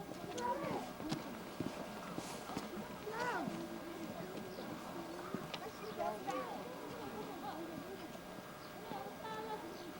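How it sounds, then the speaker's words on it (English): Cows herded along a street in Nepal, hooves clip-clopping on the ground in an uneven rhythm close by, with people talking and calling over the busy street noise. "Getting the cows to go in the right direction."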